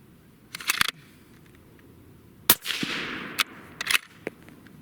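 A 6.5 Creedmoor bolt-action rifle firing Hornady Precision Hunter 143 grain ELDX ammunition, heard as sharp, fairly faint cracks amid scattered distant reports and clicks at an outdoor range.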